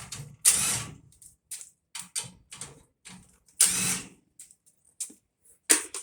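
A power tool removes a gas valve from a scrap furnace in short, sharp bursts, about ten quick whirs and clatters separated by brief pauses, close by.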